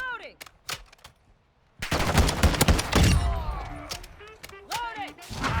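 Taq M rifle fire in Modern Warfare 2, loud rapid shots in a dense burst after a quieter stretch of isolated cracks, with game effects and voices around it.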